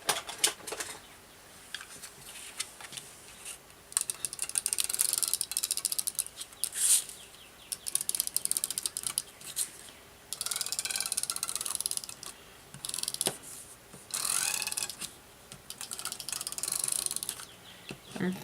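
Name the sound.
double-sided tape runner applying tape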